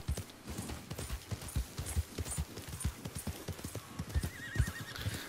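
A horse in the video game Red Dead Redemption 2 clops its hooves in a quick, uneven rhythm and neighs partway through. The sound is moderately close and fairly quiet, with no talking over it.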